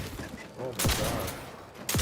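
Shotgun blasts in The Outer Worlds 2, two loud, punchy booms about a second apart, each with a short trailing tail, heard close amid other game noise and some talk.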